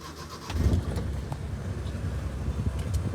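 A Maruti 800 car engine starts and settles into a low, rough idle nearby, with the cranking and catch near the start followed by a steady rumble.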